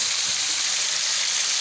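Chicken pieces fry in a hot pan, giving a steady, close, dense sizzle that holds evenly throughout with no voices.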